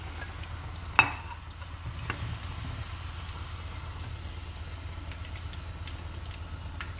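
Chicken pieces fry in hot oil for a restaurant-style white Manchurian, a steady low sizzle running throughout with a sharp utensil clink near the start and faint scraping stirs.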